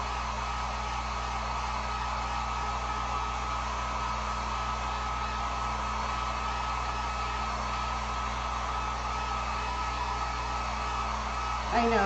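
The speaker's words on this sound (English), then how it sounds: "throw the heat gun on here real quick" A heat gun blows steadily on a wet acrylic painting of a summer fruit basket sign, a loud, even hot-air roar that fills the whole stretch with no pauses, close to the listener.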